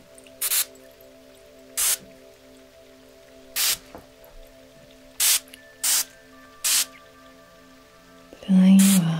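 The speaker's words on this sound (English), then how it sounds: "A little bit of this beautiful lavender spray." Seven quick spray bursts of lavender spray from a pump bottle, spaced irregularly over a soft steady hum, followed by a louder wet rustle at the end.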